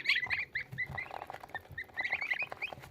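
Newly hatched Mammoth goslings peeping in rapid, high, chirpy bursts, several chicks calling close by in uneven clusters with short pauses between.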